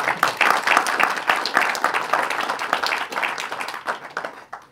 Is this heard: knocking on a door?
no